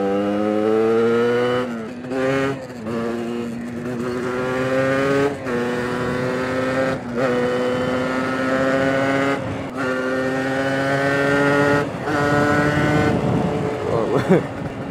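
A freshly rebuilt motorcycle engine accelerating hard as the bike rides away, its loud droning pitch climbing through each gear with brief dips at the shifts, heard close from the rider's position.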